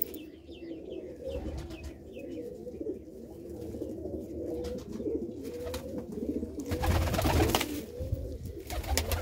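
A pigeon coos repeatedly in low, throaty rolls close by, with rustling and a louder burst of flapping or handling noise near the end.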